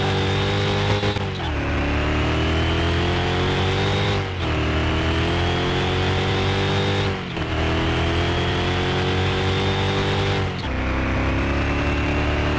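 A car engine in Car Mechanic Simulator 2021 screams at full throttle, loud and close, its pitch climbing steadily and then dropping sharply at each of four gear shifts.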